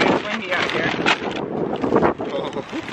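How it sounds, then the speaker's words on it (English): Gusty wind at the beach buffets the microphone with a rough, loud rumble, and indistinct voices can be heard under it. "Okay, it's windy out here."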